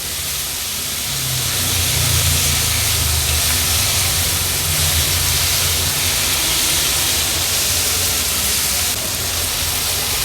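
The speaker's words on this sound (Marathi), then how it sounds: "सर्व इन्ग्रेडियंट्स व्यवस्थित आपण परतून घेतले तेलामध्ये" Cauliflower, peas and tomato sizzle in hot oil in a pan, a steady loud hiss that runs on unbroken throughout.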